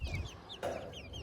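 Chickens clucking at a small home farm yard, several soft overlapping clucks over a brief stretch with low background noise, moderately close and fairly quiet.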